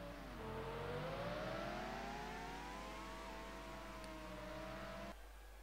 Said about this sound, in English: Now let's see this FJR engine in action.